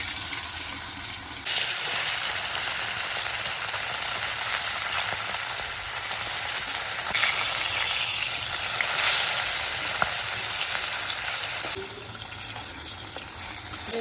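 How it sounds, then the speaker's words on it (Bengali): Puti and bata fish from the Ganges, coated with turmeric, go into hot oil. A loud, dense hiss bursts in after a quieter opening second, holds steady for about ten seconds, then eases to a lower crackle. "তেল গরম হয়ে গেছে, মাছ দিয়ে দিচ্ছি"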